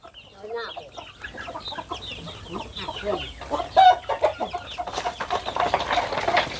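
Free-range village hens and a mother hen with her chicks cluck in a steady busy stream outdoors, several birds close by, the soft chatter building toward the end.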